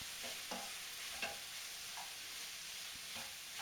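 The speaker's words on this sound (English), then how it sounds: "you only really want to cook the garlic for a minute, because if you leave it for too long, it will burn and taste very bitter" Garlic cooks in a hot pan for fried rice, giving a steady broadband sizzle with a few soft stirring scrapes and taps at a moderate, close level and no talking.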